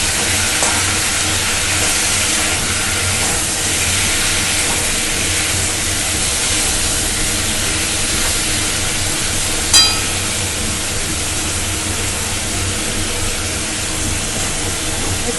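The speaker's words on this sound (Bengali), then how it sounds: "মাংসটা দেওয়ার পর আমি এখানে অল্প একটু নুন দিয়ে ভাজলাম" Chicken meat frying with a little salt in a pan for chicken rezala, a loud, dense, steady hiss of sizzling oil with a brief clink near the middle.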